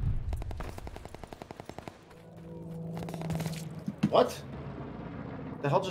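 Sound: sniper rifle gunfire in video game Call of Duty Vanguard

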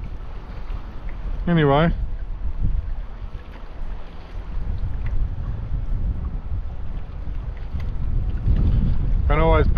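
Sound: wind blowing at a shallow fishing spot

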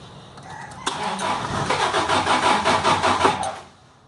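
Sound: car engine cranking but not starting

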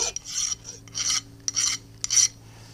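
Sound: filing a foundry pattern part by hand

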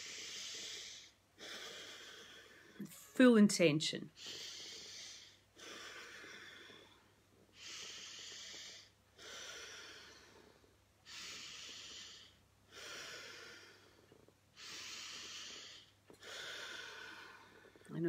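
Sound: slow deep breathing in breathing exercise

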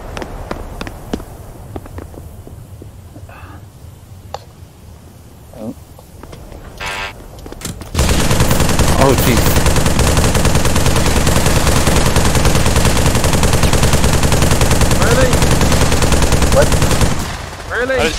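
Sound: gunfire from a gun in a virtual reality shooter video game

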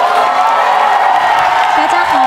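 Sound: audience applause welcoming a performer on stage

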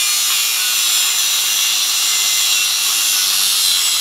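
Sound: cutting slits in a car exhaust pipe

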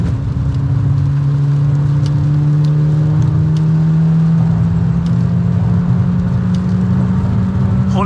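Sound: car driving on a wet track in the rain

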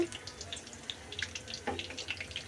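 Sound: flower-shaped pitha cakes frying in hot oil

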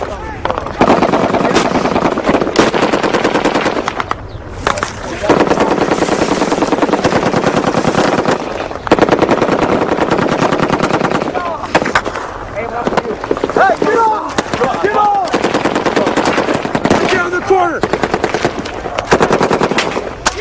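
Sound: M240 machine gun firing in combat

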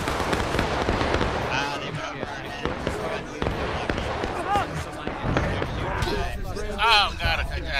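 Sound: musket volley fired by infantry in video game War of Rights

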